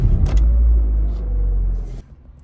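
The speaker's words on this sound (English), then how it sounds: "It's me driving again because Mila does not like to drive this car" A car being driven on La Palma in the Canary Islands, heard from inside as a loud steady low rumble that drops off near the end.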